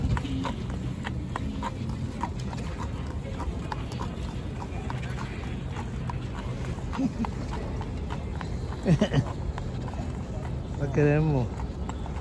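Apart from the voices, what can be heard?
horse hooves clip-clopping on street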